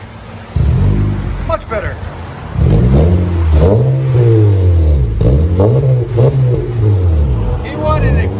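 A 2017 Honda Accord 2.4L with a Magnaflow exhaust fitted with Magnapacks revs repeatedly, its deep engine note rising and falling close by, while people talk over it.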